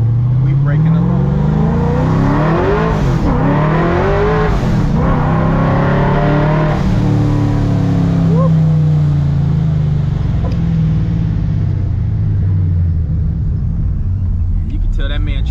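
A 1969 Dodge Charger accelerates hard in second gear, its V8 rumbling loud and close through long, rising revs, with voices talking over it now and then.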